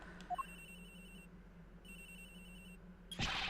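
A cell phone ringtone in the video game Ace Attorney Investigations, two ringing phrases repeating at moderate volume over a quiet hum, ending with a sharp noisy effect.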